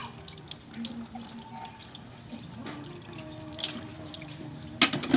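Tap water runs steadily into a sink while dishes are washed at home, a continuous close splashing stream with a few louder clinks and splashes near the end.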